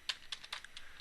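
Quick, light keystrokes on a computer keyboard while entering an IP address during a networking lab configuration, about half a dozen soft clicks in an uneven rhythm, quiet and close with no talking.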